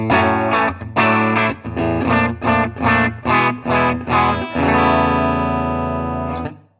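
Electric guitar played through an Ibanez Tube Screamer TSA5TVR amplifier with the Tube Screamer pedal off, a series of loud strummed chords in a steady rhythm ending in one sustained ringing chord that fades out.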